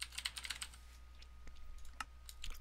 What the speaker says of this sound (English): one second, let me type this